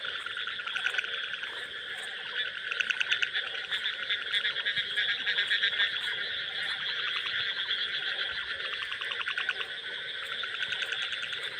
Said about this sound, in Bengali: দেখছেন ব্যাঙ কীভাবে ডাকে।